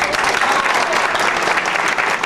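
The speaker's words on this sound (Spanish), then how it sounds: "yo pienso que le debemos un gran aplauso" Dense, steady applause from an audience at a Colombian music event, given for Universidad Santo Tomás, filling the whole moment evenly and fairly close.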